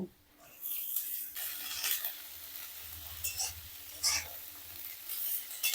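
Chopped snake gourd frying with onions in a pan, a soft close sizzle with intermittent scraping stir strokes and bright spattering bursts, no talking.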